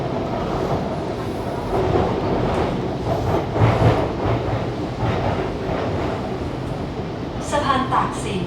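A train rumbles along steadily with rhythmic rail clatter, loud and close from inside the carriage in Bangkok, with a brief squeal near the end.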